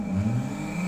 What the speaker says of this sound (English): I'll turn on P9 function, right? P9, and let it spin for 10 seconds.